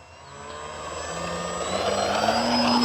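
A 1.6 m radio-controlled Fi 156 Storch model airplane takes off with flaps set, its electric motor whine climbing in pitch and growing steadily louder as it powers up and lifts away.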